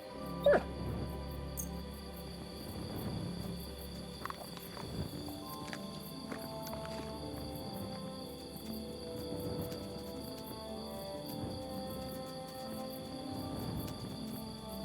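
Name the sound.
dog whimpering in video game Kingdom Come Deliverance 2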